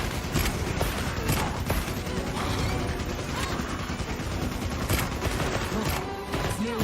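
Bow guns firing in a video game, a continuous dense clatter of mechanical clicks and rattling snaps with scattered sharper cracks, steady and busy throughout.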